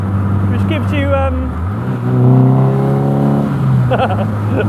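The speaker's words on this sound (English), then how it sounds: "lovely little engine note." A Mazda Miata-powered MK Indy RX-5 kit car with a stainless steel silencer hums and revs, its engine note rising and falling steadily beneath someone talking close by.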